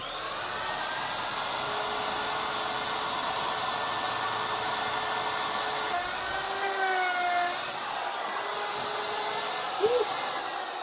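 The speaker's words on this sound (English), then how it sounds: "So I actually want to push the router that way, okay? Table router, material goes that way." Table router cutting a rabbet joint into wooden closet door jambs, a steady loud high-pitched whine with a shifting tone as the material feeds through, running continuously throughout.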